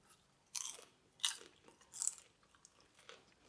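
Close crunching bites of popcorn, three sharp crisp chews followed by softer munching, with no talking.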